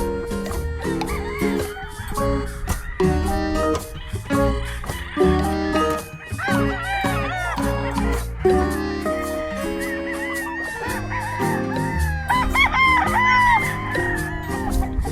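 Gamecock stags crow and cluck repeatedly on a morning farm, many birds overlapping near and far in a busy chorus with occasional honking calls, a voice speaking faintly among them.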